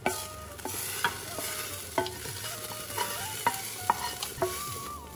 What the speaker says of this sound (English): Now the only thing we need to do is add the tempering.